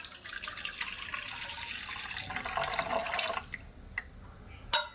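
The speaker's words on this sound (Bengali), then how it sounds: "এবার জলটা ভালো করে সেঁকে নেব" Cooled water is strained into a bowl while making homemade vinegar, giving a close, steady trickling pour that stops abruptly, followed by a few faint drips and a sharp clink.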